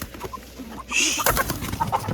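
A hen clucks in a poultry coop, a few short close clucks and one louder squawking burst amid soft rustling and shuffling.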